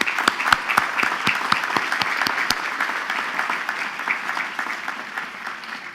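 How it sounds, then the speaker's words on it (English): Applause from the crowd at a Queens College commencement ceremony, with several sharp claps up front, then dense, steady clapping that slowly fades over six seconds. "please join me in giving them a rousing round of applause."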